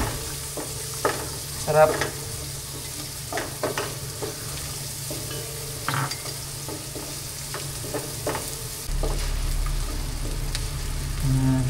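Garlic, ginger and onion sautéing in a pan for milkfish paksiw, a steady low sizzle with intermittent spoon stirring and scraping clicks, brief speech heard once.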